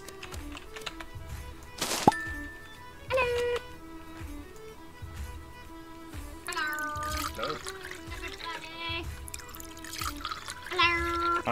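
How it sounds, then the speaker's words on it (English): Drinks are poured in the video game Goose Goose Duck, trickling liquid effects mixed with game sounds, tones and clicks, heard under a player's talking. "I am pouring drinks."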